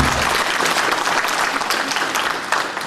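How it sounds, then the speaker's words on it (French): A crowd at a Front National public meeting in Hayange applauds steadily, a dense, even wash of clapping that fills the room from start to finish with no talk over it. "je pense qu'on peut l'applaudir"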